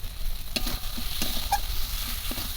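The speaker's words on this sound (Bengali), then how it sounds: "এবার ভালো করে একদম কষিয়ে নেব মশলা" Ginger spice paste for a chicken liver curry sizzles in hot oil while being stirred, with a steady frying crackle and a few sharp scraping knocks of the spoon against the pan; no speech.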